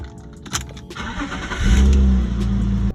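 A BMW E36 M3 engine cranks after a few clicks and catches about halfway through, then settles into a loud, steady idle close by.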